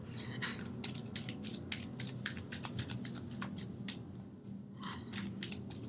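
Quiet crisp flicking and shuffling of tarot cards, a quick run of light papery snaps with a short pause before more shuffling.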